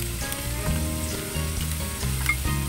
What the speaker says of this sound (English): I'm going to put some bacon on this pan. It's already cooked, so we're just going to warm it up.